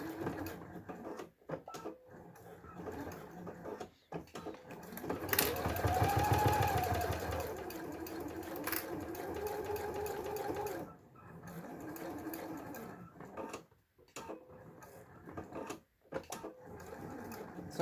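A sewing machine stitches a fabric wristlet, running steadily for a few seconds of close, buzzing whir before stopping, with soft handling noises and quiet talk around it.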